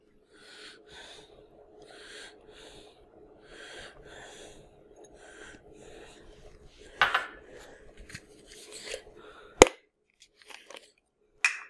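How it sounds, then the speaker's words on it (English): Regular potato masher squishing tomatoes in a pot: rhythmic wet squelching pushes repeat in soft bursts, then sharper metallic clanks and scrapes against the pan, close and fairly quiet. "we're going to use regular potato masher to mash our tomatoes"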